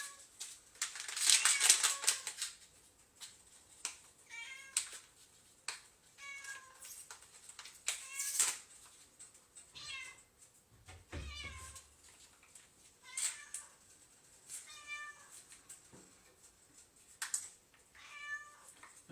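A cat in a home kitchen meows repeatedly, a series of short rising and falling cries scattered over twenty seconds, close and fairly soft, mixed with light clicks and rustling and a little speech.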